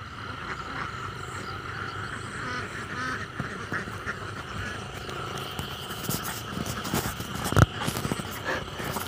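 Ducks at a duck-herding camp in the early morning, during egg collection, give scattered quacks over steady ambient noise, with one sharper, louder call standing out near the end.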